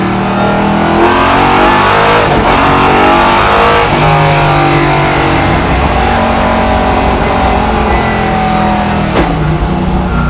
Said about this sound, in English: Like that was just full throttle, no lift.